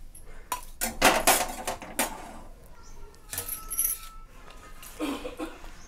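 Dry-roasted brinjal and other vegetables being moved onto a plate with a metal utensil, a few clinks and scrapes of metal on steel spread across the clip, close and moderately loud, with no talk.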